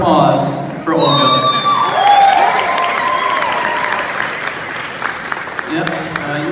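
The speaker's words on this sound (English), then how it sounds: "And another round of applause for Olga." Wedding guests at a reception applaud the bride during a best man's toast, a steady close round of clapping with cheers, whoops and some voices rising over it before it tapers off.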